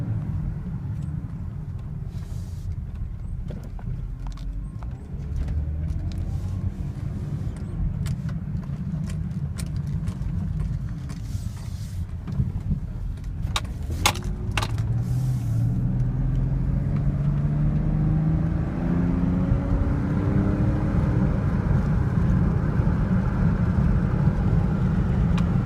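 A car's engine revs up steadily through a hard acceleration, the pitch climbing over a constant road rumble, close and fairly loud, with no one talking.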